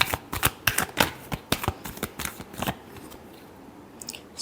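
A deck of tarot cards shuffled by hand, a rapid run of crisp riffling snaps over about three seconds, close and fairly soft, then a brief quiet pause with a couple of light taps.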